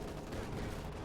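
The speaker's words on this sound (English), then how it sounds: "Dreamwork has pulled the trigger on the Sturmovik strafe." Sturmovik strafing run gunfire in Company of Heroes 2, a dense, continuous rattle of rapid shots filling the whole moment at steady loudness with no talking.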